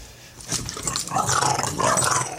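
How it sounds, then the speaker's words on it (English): A dog growls low and continuously, close by and fairly loud, its rumbling snarl rising in intensity with no talking over it. "Violent dog."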